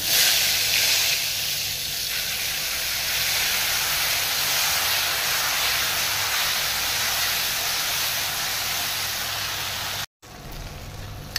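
Ginger, green chili and cashew paste fries in a pan for Bengali dhokar dalna, giving a steady loud sizzle and hiss that runs on evenly before a brief cut near the end.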